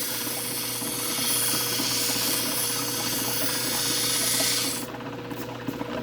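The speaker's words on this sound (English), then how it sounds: "And just go low on the wheel and start cutting my bevel down." A grinding wheel cuts a bevel on the edge of a rock with a loud, steady, close rasping grind lasting about five seconds, then drops away to a quieter hum with a few light taps.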